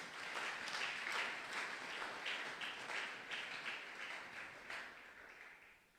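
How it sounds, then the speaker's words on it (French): A church congregation at a Sunday worship service applauds and cheers loudly, a dense continuous wash of clapping that holds steady for several seconds before tapering slightly toward the end. "Est-ce que tu peux acclamer très fort pour la gloire de Dieu?"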